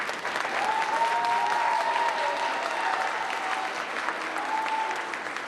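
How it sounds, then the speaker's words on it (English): An audience at a 4th grade school arts celebration claps continuously for several seconds, a dense, even applause that swells slightly and then holds steady. "Well, you're allowed to clap for that."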